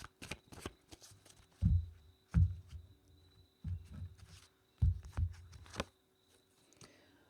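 Tarot cards are shuffled in several quick riffling bursts with short gaps between them, close and crisp, ending in quiet.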